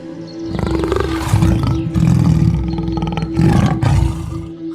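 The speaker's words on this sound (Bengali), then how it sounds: "বাঘগুলো পালাতে না পেরে গর্জন করতে থাকে।" Tigers roar loudly as a storytelling sound effect, several long, powerful rumbling roars in succession that fill the foreground, with no talking.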